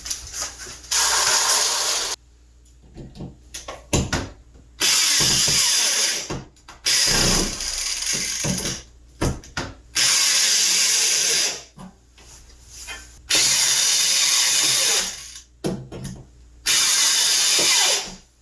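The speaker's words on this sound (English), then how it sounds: "I'm gonna actually use the drill to screw these in" A power drill driving screws whirs in six or seven short, loud bursts separated by brief pauses and faint clicks and handling noises, close by.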